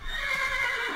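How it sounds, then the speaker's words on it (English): A short, high-pitched Minecraft horse neigh, loud and close, wavering for about a second with no talking over it. "What's with all these horses?"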